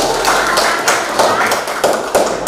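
Classmates in a teacher-training class give a round of hand claps for Group 1, a dense, fairly close patter of palms with rhythmic surges over a couple of seconds.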